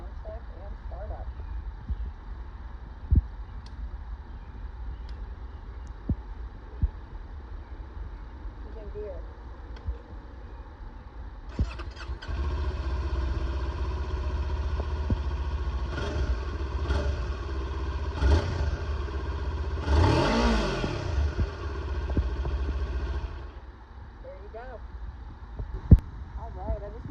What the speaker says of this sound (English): we're going to go ahead and give you guys a stock OEM exhaust sound check and startup